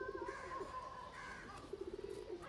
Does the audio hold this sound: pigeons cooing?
yes